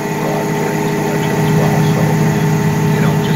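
John Deere 8450 tractor running its PTO at 1,000 RPM, a loud, steady engine drone with a rough low rumble and a constant hum, unbroken and close throughout.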